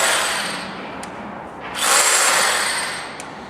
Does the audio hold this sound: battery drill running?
yes